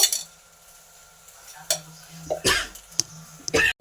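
Okra being stirred by hand with gram flour, salt and turmeric in a bowl, giving short wet squishing and scraping strokes with a few clinks. The strokes come in irregular bursts with quiet gaps between them.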